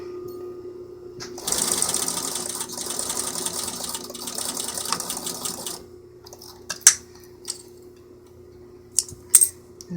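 A sewing machine stitching a self-lined hood with piping runs steadily for about four seconds, then stops, followed by a few sharp clicks and light handling noises nearby; no one speaks.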